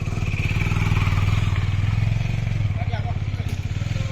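A motorcycle engine idles nearby with a steady, pulsing putter, loud and continuous for the whole stretch while people talk beside it.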